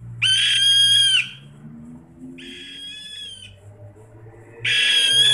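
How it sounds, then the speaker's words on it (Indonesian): An owl kept by rice farmers in a village in Banyuasin, Indonesia, gives loud, harsh, drawn-out screeching calls, three long bursts with short pauses between them, close by over a low background hum. "ini salah satu burung hantu yang selama ini menjadi pahlawan bagi para petani"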